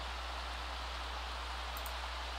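Steady, soft rain falls in a life-simulation video game on a bachelorette party day, a quiet even hiss of drops without pauses or voices.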